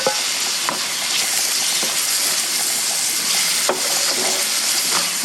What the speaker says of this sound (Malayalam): തക്കാളി ഈ സബോള അരിഞ്ഞതും കൂടെ കൂട്ടി നന്നായിട്ടൊന്ന് ഇളക്കിയിട്ട് ഇത് നല്ല പച്ചമണം മാറുന്നിടം വരെ നന്നായിട്ട് ഇളക്കി വഴറ്റിയെടുക്കണം